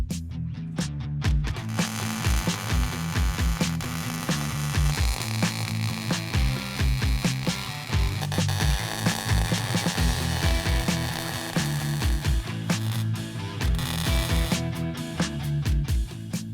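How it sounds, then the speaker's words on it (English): Plug welding on the body panel of a barn-find Plymouth Cuda that was once under water, a dense, continuous crackling buzz with a low rhythmic hum, loud and close throughout with no talking. "Gonna go do a couple plug welds on the bottom to get that all anchored"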